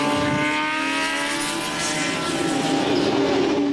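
Motorbikes racing on a track, engines roaring in a sustained high drone that rises in pitch. Loud and continuous, with no speech.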